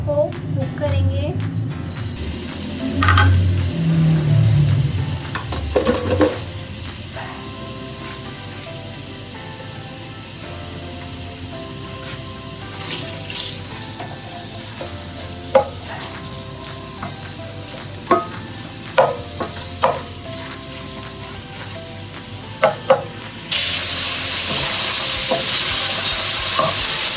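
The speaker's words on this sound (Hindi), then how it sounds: "यहाँ पे मैंने ऑयल गरम कर लिया है। अब हम यहाँ पे चिकन को कुक करेंगे।" Chicken pieces land in hot oil and sizzle steadily for fried rice, a soft continuous frying hiss with occasional stirring clatter, a voice talking over it.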